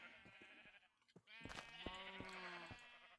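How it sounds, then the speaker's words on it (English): Sheep in the Minecraft video game bleat in quick succession, nasal wavering calls, clear and close with a few clicks between them. "These sheep are driving me crazy"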